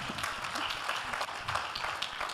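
Congregation at a Christian sermon clapping together as a steady, dense wash of applause filling the hall without pause, with no voices over it.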